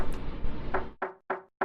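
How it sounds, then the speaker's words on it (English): Knocks on a door in a visual novel video game: three sharp, close, evenly spaced raps that follow a dense burst of background sound. "It was the sound of knocking."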